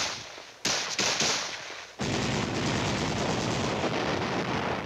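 Infantry weapons fire during a military field training exercise, a sharp burst opening into sustained, loud rattling gunfire that continues steadily without pause.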